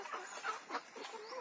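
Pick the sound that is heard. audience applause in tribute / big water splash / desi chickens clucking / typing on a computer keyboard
desi chickens clucking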